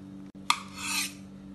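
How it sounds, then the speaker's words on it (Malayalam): A utensil scrapes around the sides of a pan to loosen a steamed egg before it is moved to another dish. A single short scraping stroke rises over a low steady hum and fades within about a second. "ഇതിനി സൈഡ് ഇങ്ങനെ ഇളക്കി കൊടുത്ത് വേറൊരു പാത്രത്തിലേക്ക് മാറ്റാം"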